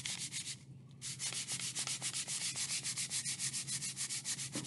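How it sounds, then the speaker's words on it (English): Light, gentle sanding of a balsa wood glider wing: steady back-and-forth scraping strokes in an even rhythm, close and clear, with a brief pause near the start and no talking. "Again, very, very gently. Light sanding."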